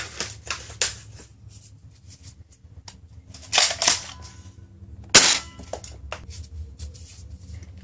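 A JT Splatmaster Z100 blaster fires darts in a series of sharp, snappy cracks, irregularly spaced, with a few softer clicks between the louder shots, close by.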